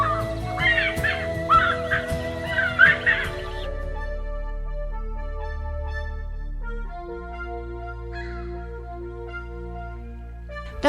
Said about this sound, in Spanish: Por valles y collados se escucha particularmente en la hora vesperal el canto monótono y alborotado